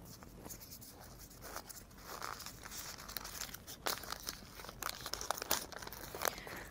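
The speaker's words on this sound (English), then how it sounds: "Generally, we use the oil paper to wrap it up." Oil paper crinkles and rustles as it is wrapped around a fuel injector valve assembly, a continuous close-up run of crisp crackles and sharp crumpling bursts with no talking.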